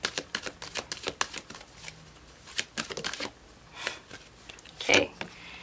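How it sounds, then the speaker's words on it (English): A tarot card deck is shuffled close by, with a run of quick riffling snaps and soft slides that come in irregular bursts. One louder clack lands near the end. "I'm going to go ahead, shuffle it for you to see what kind of message comes across"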